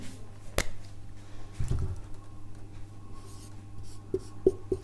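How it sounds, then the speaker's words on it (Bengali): Pen or pencil scratching on paper while a chemical reaction equation is written out by hand, a few short faint strokes and taps spread across the stretch, with steady low room hum underneath and no talking. "আমি একটি বিক্রিয়া লিখছি।"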